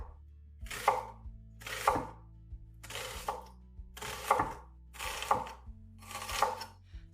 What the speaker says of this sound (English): So just slice the onions thinly.